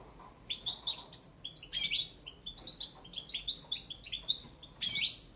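A Balkan goldfinch (Carduelis carduelis balcanica) sings close and clear, repeating bright, high chirps and quick twittering phrases in lively bursts over a faint background.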